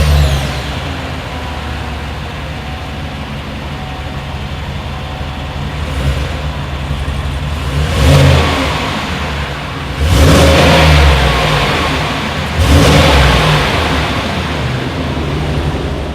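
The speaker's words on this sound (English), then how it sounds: "As always, here is that exhaust clip." A 2020 Chevrolet Suburban with a single exhaust outlet revs several times, each rise swelling into a loud roar over a steady idle rumble, heard close with no talking.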